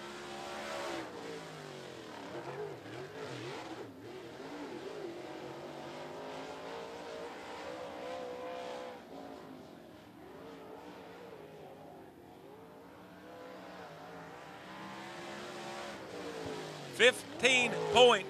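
Limited late model race car lapping 411 Motor Speedway, its engine roaring and sweeping in pitch, fading mid-lap and then swelling back near, with sharp loud bursts at the end and faint voices in the background.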